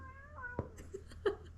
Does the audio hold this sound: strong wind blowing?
no